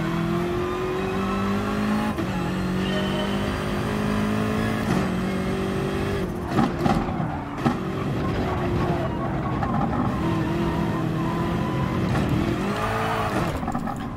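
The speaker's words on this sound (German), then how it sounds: "Also erster Gang schien sich gut anzuhören, vom Motorsound her." A race car engine drones in first gear in the GT Sport video game, lapping the Nordschleife with a steady, loud tonal whine that shifts pitch through corners, alongside occasional tire noise and no voices.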